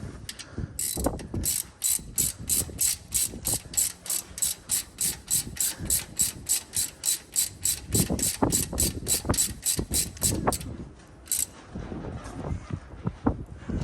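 A hand ratchet clicks in rapid, even bursts while bolts are tightened on a Banks rear differential cover on a 2016 Ram 2500 Cummins. The strokes are close and repeat many times with short pauses between them.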